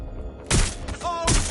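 A grenade goes off in the Watch Dogs video game with a sudden loud, broad blast and rumble, followed by a second burst a moment later, while a voice cries out over it.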